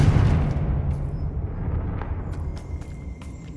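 Confringo spell explosion in the game Hogwarts Legacy, a deep rumbling boom at the start that decays slowly into low rumble, followed by faint sparkling magical chimes.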